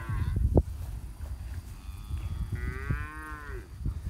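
Brangus cows mooing in a pasture, one long low moo with a rising then falling pitch heard at mid-distance over outdoor rustle and wind noise.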